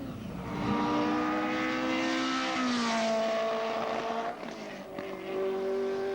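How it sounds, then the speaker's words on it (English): V8 race car with a six-speed gearbox, driven on a European circuit with a sticking throttle: a sustained engine note that rises, then drops as it shifts, holds, dips and climbs again. "This car's got a V8 engine and a 6-speed gearbox"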